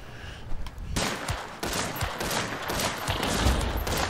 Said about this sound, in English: I shot him like 30 times with a Bornheim.